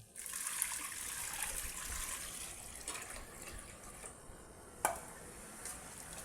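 Water is poured into wheat feed for goats, about one litre, a quiet, steady trickling splash running throughout with a brief clatter near the end, no talking.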